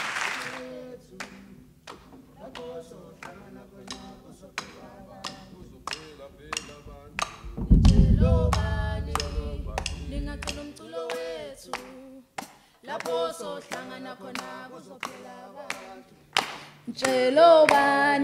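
An audience at a literary festival event claps in sharp, rhythmic beats, with a short burst of fuller clapping in the middle and voices singing over the claps.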